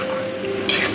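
Chilli mushroom cooks in a pan, a steady close sizzle with a brief stirring scrape partway through.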